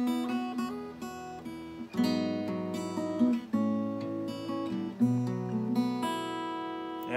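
Plucked guitar strings ring out in a steady descending pattern, notes overlapping and sustaining, played alone and close with no talking.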